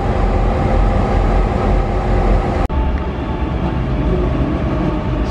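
A suburban train and the Spirit of the Outback pull out of Brisbane together, a loud steady rumble of rolling wheels and engines broken by one sharp click midway.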